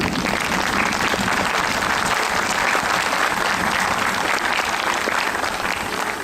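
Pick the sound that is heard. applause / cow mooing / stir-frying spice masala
applause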